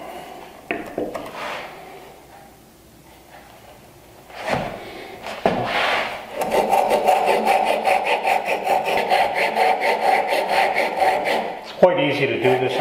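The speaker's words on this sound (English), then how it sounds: "It's a crosscut saw, and it cuts extremely well quickly." A crosscut hand saw cuts a shoulder into wood for a bridle joint, with a few scattered knocks and scrapes followed by a steady run of quick, even rasping strokes close by that stop abruptly near the end.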